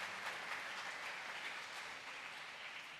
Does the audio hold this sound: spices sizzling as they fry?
no